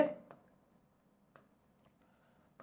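Writing on a board during a Bengali-language maths class for teacher recruitment: faint, sparse scratches and taps of strokes spaced about a second apart in a quiet room, after a brief burst of a voice at the start.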